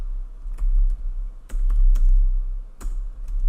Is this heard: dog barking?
no